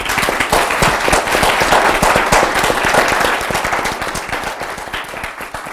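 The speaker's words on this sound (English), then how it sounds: "Please give our panelists a big round of applause." An audience at a political communications panel event gives the panelists a loud round of applause. Dense, crackling hand claps sound close, then taper a little near the end.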